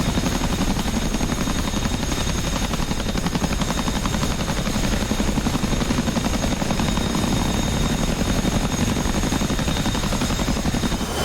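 A Chinook twin-rotor helicopter in the DCS combat simulator, flying in a 2006 Afghanistan battle scenario, gives a constant loud, dense rotor and engine roar with a steady whine on top, unbroken for the whole stretch.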